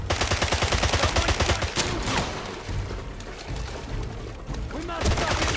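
Sustained rapid gunfire during a firefight in the spy shooter James Bond 007: Blood Stone: loud, dense automatic bursts that thin out briefly in the middle and swell again, with shouted voices amid the shooting.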